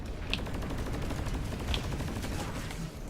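Carbine fire in a video game, a close-quarters hipfire weapon, heard as a dense rattle of rapid shots under steady loud noise, with a couple of sharper cracks standing out.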